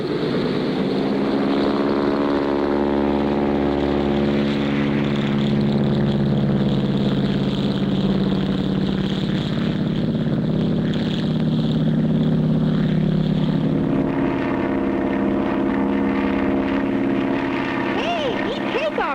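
A bush plane's propeller engine drones loud and steady through takeoff, its pitch shifting gradually as it climbs, with voices speaking over the continuous roar.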